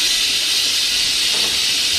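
A pressure cooker lets steam out through its valve with a loud, steady hiss that carries on unbroken, close by, with no voices.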